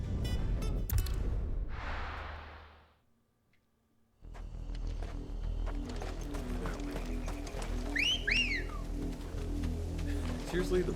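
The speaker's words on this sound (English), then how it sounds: "Seriously, the wolf whistle?" A quick two-note wolf whistle, repeated twice, rings out during Final Fantasy XVI gameplay over clip-clopping hooves and background game sounds.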